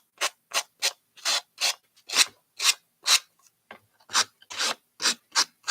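Short rasping strokes of a nail file sanding a surface, about a dozen quick back-and-forth passes in an uneven rhythm, close and isolated.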